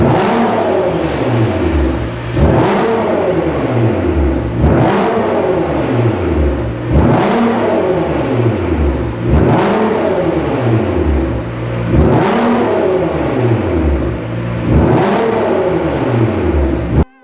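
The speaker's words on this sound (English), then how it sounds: "You can hear it revving up" A Nissan GT-R R35 with a turbo-back exhaust revs repeatedly, about seven loud sweeping climbs that each drop back down in a steady rhythm, heard up close and with no one talking.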